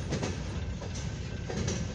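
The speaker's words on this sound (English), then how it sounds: "got a southbound to an eastbound CSX coal hopper train here on the main, he's on the other track right there" A long empty CSX coal hopper train rolling past on the main line at a railroad crossing in Fostoria, Ohio, a steady loud rumble with rhythmic wheel clacks over the rail joints.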